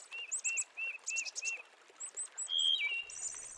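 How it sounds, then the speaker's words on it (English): A waterthrush calls beside a cool stream in early October, giving a quick series of sharp, bright chirps and a short trill, close and clear over quiet background. "A water thrush joins the raccoon."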